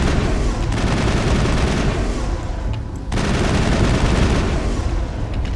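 Heavy, continuous automatic gunfire during a Mass Effect boss fight against Saren, dense booming bursts with a brief dip midway before the firing resumes just as loud.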